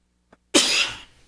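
A single sharp, loud sneeze bursts out after a faint click, then trails off quickly into quiet.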